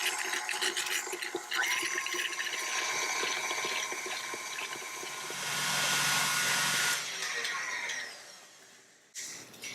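A stand mixer with a paddle beats cream cheese and sugar at medium speed, giving a steady, close motor whir with a churning rattle that swells midway and cuts off briefly near the end.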